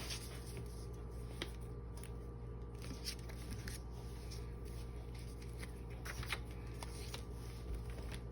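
A sheet of music paper handled for a sketchbook junk journal, with soft crinkles and rustles in irregular bursts, quiet and close over a steady low hum.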